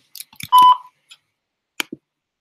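A phone voicemail greeting ends in a single clear electronic beep, a short sustained tone preceded by brief clicks and followed by a couple of faint taps.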